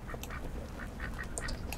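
A duck in the Little Inferno video game lets out a quick string of nasal quacks, several short calls in a row that sound clear and close over faint background noise.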